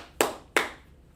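A class claps twice, each a sharp, loud burst that fades quickly, with a brief pause between them and no voices.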